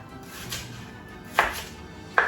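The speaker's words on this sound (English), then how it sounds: "I'm going to be slicing my onion, one which I will use to fry my stew." A knife cuts through an onion on a board, slicing it into big chunks for a Nigerian tomato stew, with two sharp, separate chops in a quiet kitchen.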